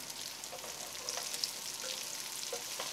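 Romanesco cauliflower florets frying with onions in a pot give off a steady, soft sizzle with a few faint stirring scrapes, fairly quiet and with no voices.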